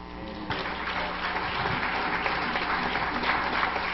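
Congregation in a Pentecostal church clapping together after a call to applaud, a steady wash of hand claps building after a brief start and continuing at moderate volume throughout.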